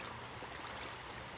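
Water flowing steadily in a creek, a faint, even rushing wash with no breaks and no voices.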